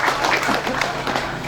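Applause from the audience at a Maulid Nabi lecture in a mosque, a dense, steady burst of clapping from many hands throughout.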